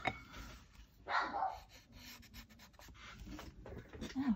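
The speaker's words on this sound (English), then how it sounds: "Oh, who's he barking at?" A dog indoors gives a brief bark or two, fairly faint and a little distant, over quiet room noise with some soft rubbing sounds and no talk.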